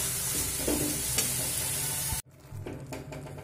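Chicken cooking covered in its own released juices over a low flame, a steady close sizzle and bubbling that drops off sharply partway through, leaving a quieter simmer afterward.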